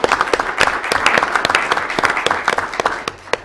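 People in the audience at a city commission meeting clap together, a loud, close burst of distinct, sharp handclaps repeating rapidly for several seconds without any speech.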